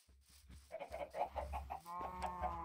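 Chickens in Minecraft cluck in a quick run of short, repeated calls, fairly close and clear, with no talking over them.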